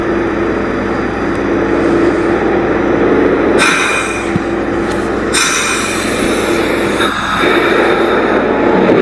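A New York subway train rumbles through Whitehall Street-South Ferry station, loud and continuous, with bursts of brighter rushing and hissing noise as it moves.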